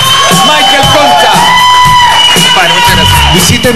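A Chilean television studio audience cheers and claps for a Michael Jackson impersonator, a loud, steady wash of whoops and shouts running under a host's voice.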